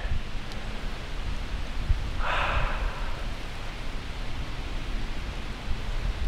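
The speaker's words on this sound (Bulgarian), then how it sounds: "продължава да вали." Steady rain falling in Niigata, Japan, during a March trip, a dense continuous hiss with a faint brief brighter swell partway through and no voices.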